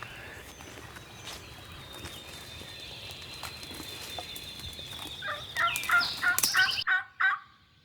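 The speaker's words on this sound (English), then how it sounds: "They can hear the turkeys gobbling" A wild turkey in the Kentucky woods gives a quick run of rattling gobbles near the end, fairly close and loud, after a long stretch of quiet woodland hum with faint bird calls.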